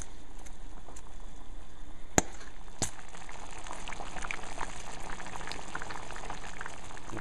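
Barbecue sauce made with soy sauce, honey and onion bubbles at a boil in a pot, a continuous close fizzing simmer with a couple of sharp utensil clicks and no talk.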